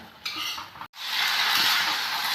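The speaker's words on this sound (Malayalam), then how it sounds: "നമുക്കിതെല്ലാം ഒന്ന് യോജിപ്പിച്ചു കൊടുക്കാം" Gobi Manchurian ingredients stirred together in a hot pan, with a spoon scraping and a steady sizzle of frying, a short clink and pause, then louder continuous hissing, close up.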